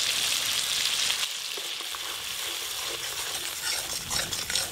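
Spice paste fries with cashew paste in a pan, making a bright, continuous close sizzle with light stirring and occasional soft clinks of the spoon.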